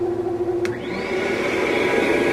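A Marathon 800/1200 floor scrubber's vacuum motor runs with a steady, close whine and hum. A brief click comes partway through, followed by a rising tone as the motor spools up and then holds at a level pitch.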